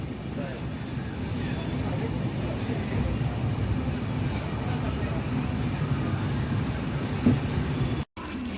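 Konkan Railway Diva–Ratnagiri 50103 passenger train nearing Panvel station, a steady, loud rumble of carriages and wheels with a brief clatter near the end before a short dropout.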